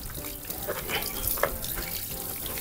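Water showering steadily onto seed trays of wild vegetable (pak wan) seedlings in an organic garden, a continuous close spray hiss with small splashing variations and no talk.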